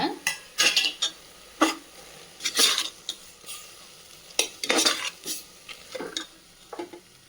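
Cardamom, clove and cinnamon powder with ground mint and coriander frying in a pan for chicken biryani, soft sizzling broken by sharp metallic spoon scrapes and clinks at irregular intervals, close.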